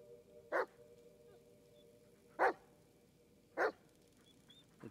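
A dog barks three times, spaced a couple of seconds apart, in a dark, quiet scene in the video game Blair Witch.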